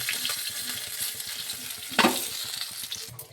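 Koi fish frying in hot oil in a pan, a dense steady sizzle running throughout, with a brief louder clatter of stirring midway.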